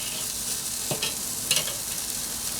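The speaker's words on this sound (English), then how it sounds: "I'm gonna let these burgers cook indirectly." Burgers cooking on a kettle grill give off a steady, soft sizzle, with a few brief clicks and scrapes near the middle, close up and with no talking.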